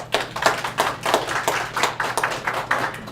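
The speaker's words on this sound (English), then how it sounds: "So let's give her a round of applause." Applause from a seminar audience for a presenter on senior care, a steady patter of many hands clapping at moderate level with rhythmic swells, no talk over it.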